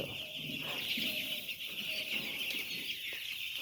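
Chickens on a poultry farm cluck steadily over a continuous high-pitched hum of birds and shed noise, a dense flock sound with no clear individual calls standing out.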